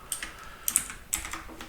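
Keystrokes on a computer keyboard while editing ClojureScript code, a few sharp clicks in small clusters, close and clear with no talking.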